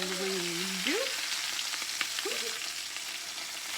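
Garlic honey chicken sizzles softly in a pan as it browns, a steady quiet frying hiss with occasional faint pops, and a brief tonal squeak near the start.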